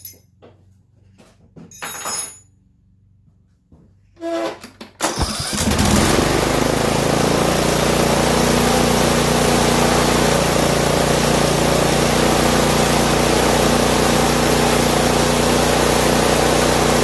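A Briggs lawn tractor engine with a replaced carburetor starts: after a few short cranking bursts and pauses, it catches around five seconds in and settles into a loud, steady, close-up running drone.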